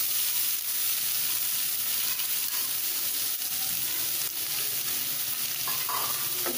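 Cabbage stir-fries with sautéed onions in a pan, a steady loud sizzle with scraping stirs throughout and no talking.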